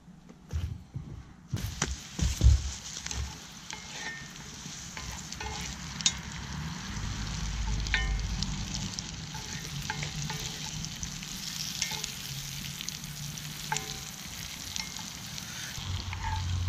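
A pat of butter hits a hot pan over a campfire outdoors, sizzling and frying steadily close by, with scraping stirs and a few knocks against the pan.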